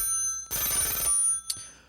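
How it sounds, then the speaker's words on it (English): A telephone rings once in a radio station studio, a short bright electronic burst followed by a brief click. "I am going to answer the phone."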